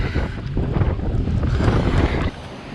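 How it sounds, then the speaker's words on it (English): A strong gust of wind sweeps across a tent at an island campsite on Moreton Island as rain approaches. It roars and buffets loudly against the microphone for about two seconds, then eases. No one speaks. "Bloody big wind, gust of wind came through."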